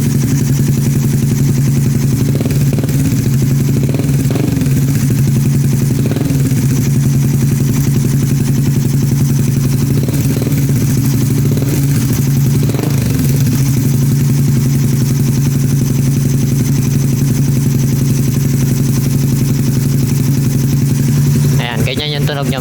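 Motorcycle fitted with an SJ88 Indo pipe silencer idles and revs close by, a continuous low exhaust drone with a few rising swells, loud and steady throughout, with a voice talking intermittently over it.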